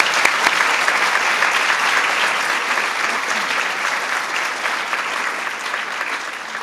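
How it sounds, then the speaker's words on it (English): A large gathering applauds military spouses and mothers at a Mother's Day event at the White House, producing dense, sustained clapping that stays loud and even throughout without a break. "let's give them a round of applause"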